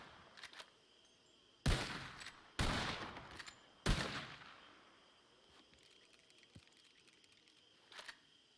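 Bursts of gunfire in a video game roleplay shootout, three loud volleys in quick succession followed by a fainter shot, with quieter crackling and pops between them.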